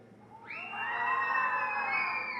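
A concert audience of young people lets out a loud, sustained high-pitched group scream imitating an alien, swelling in after a brief pause and holding steady as a massed crowd voice.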